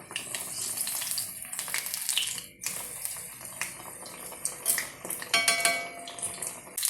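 Pineapple fritters sizzle in hot oil in a pan while being flipped, with a steady bright crackle of frying broken by clinks and scrapes of a utensil against the pan, close up and without speech.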